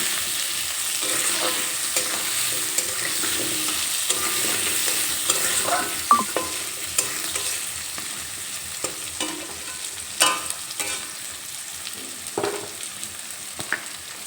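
Sliced onions and potatoes fry together in a pan for an egg and cauliflower dish, a steady close sizzle with repeated scraping knocks of a spatula as they are stirred.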